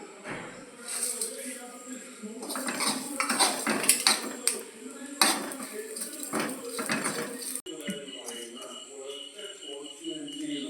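A metal utensil scrapes and clatters against a pan as coconut is stirred and roasted, with a steady sizzle and irregular knocks throughout.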